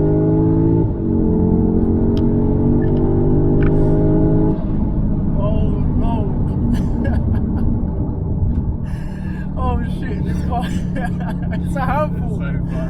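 Modified 2021 Audi S3 engine droning loud and close from inside the cabin, revs climbing then dropping through gear changes, with voices chatting over it toward the end.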